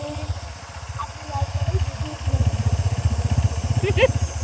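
A motorcycle engine runs with a steady low throbbing rumble during a ride to a temple, while people talk over it.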